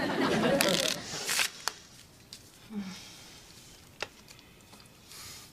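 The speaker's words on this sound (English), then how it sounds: "I'll shuffle." A deck of playing cards shuffled indoors during a sitcom scene, with a brief close riffling burst at the start followed by a few soft taps and clicks, and voices speaking around it.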